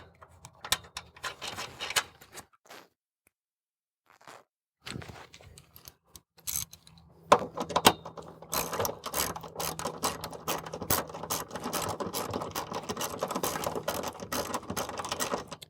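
A 13mm socket on a ratchet tightens nuts during a rock slider install, giving sparse clicks and knocks at first, then a steady run of close, rapid ratcheting clicks.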